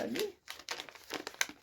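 A padded bubble envelope is torn and crinkled open by hand in a series of close, papery rips and rustles, with a voice talking over part of it.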